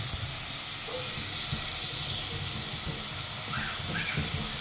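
Onion frying in ghee and oil in a pot gives a continuous, even hiss and sizzle close by, with faint crackles scattered through it.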